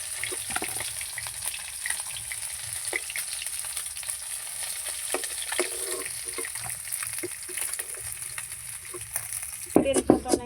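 Tengra fish frying in hot oil, a steady, busy sizzle with crackling spatters throughout and a brief clatter of utensils near the end.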